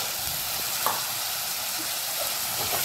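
Pavta beans and onion sautéing in a pan, a steady broad sizzle running throughout with a few faint scrape or stir touches, fairly close and alone.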